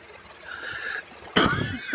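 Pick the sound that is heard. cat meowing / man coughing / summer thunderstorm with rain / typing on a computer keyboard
man coughing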